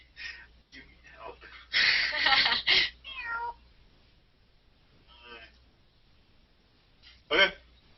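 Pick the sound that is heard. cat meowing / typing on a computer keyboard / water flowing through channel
cat meowing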